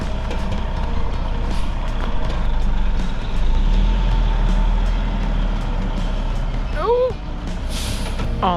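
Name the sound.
gravel truck reversing onto the site, reversing beeps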